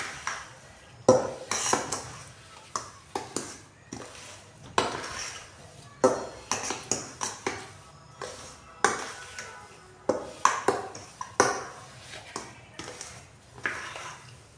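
Rava laddoo mixture being stirred in a metal pan, a spoon scraping and clinking against the sides in repeated irregular strokes, close and fairly loud with no talking.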